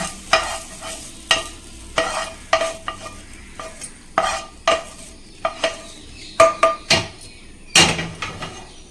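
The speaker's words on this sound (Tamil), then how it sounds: "இந்த நாஸ்டிக் பேன்லேயே தாளிப்பு கொடுத்துடலாம்" Spices tempered in oil in a nonstick pan for red chutney, with a string of sharp crackles and spatula scrapes in uneven bursts over a steady sizzle, close and fairly loud, with no voices.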